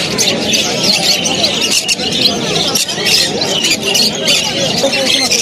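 Parrots and other caged birds for sale at a pet bird market in Uluberia, a dense, loud chorus of overlapping squawks and shrill chirps that never lets up, with people talking in the background.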